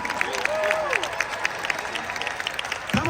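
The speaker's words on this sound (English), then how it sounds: "Come on, keep on clapping like you're going there." Many hands clapping at a Los Angeles growth conference form a steady, crowded roar, with a voice calling and chanting above the applause and a heavy bump near the end.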